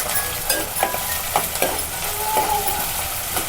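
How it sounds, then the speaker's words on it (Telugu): Sliced onion frying in hot oil with cumin and mustard seeds sizzles steadily in a pan, with a few brief scraping stirs mixed into the hiss, close and fairly loud throughout. "ఆనియన్ ఒక 2 మినిట్స్ వేయించుకోవాలి."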